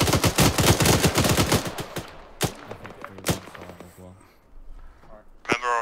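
Rapid automatic gunfire in ARMA 3 rattles in a dense burst, followed by a few isolated heavy shots and scattered distant cracks, with voices talking over parts of it.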